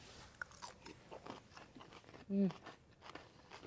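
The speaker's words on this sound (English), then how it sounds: "Crunch sound effects." Fresh, crispy salad dressed with vinaigrette is crunched and chewed up close. Scattered crisp bites and one louder crunch sit among quiet background voices.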